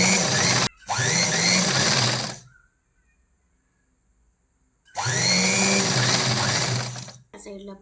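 Sewing machine stitching a fabric strip onto a sleeve, two loud sustained runs of rapid mechanical whirring separated by a pause, with a brief break in the first run.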